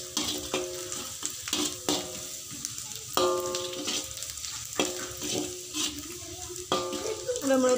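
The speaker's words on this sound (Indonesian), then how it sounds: "Tumis ini sampai tercium harum." Steady frying sizzle as chili paste is sautéed in a pan, with repeated clinks and scrapes of a utensil stirring, a few tapping strikes spaced through it.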